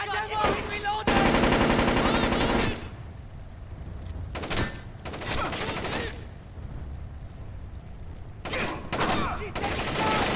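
Gunfire in Splinter Cell: Chaos Theory comes as rapid automatic bursts, several separate volleys with gaps between them, loud and close, with game voices shouting between and over the shots.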